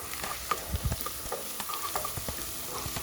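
Ginger and three green chilies are stirred in a hot oiled pan for lauki sabji: a constant frying sizzle is broken by repeated scraping clicks and knocks of the spoon against the pan, with no voices.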